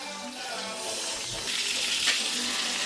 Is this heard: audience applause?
no